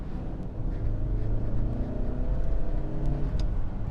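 A Hyundai Santa Cruz's turbocharged 2.5-liter four-cylinder engine runs and revs under the hood, a steady, full mechanical drone holding a sustained, slightly rising tone, close and continuous with no talking.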